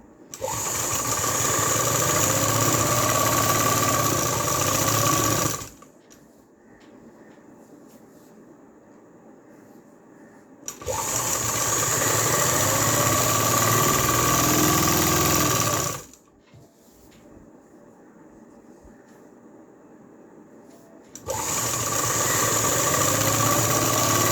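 Sewing machine stitching a salwar in two long steady runs of fast mechanical whirring, close and loud, stopping between runs to near quiet.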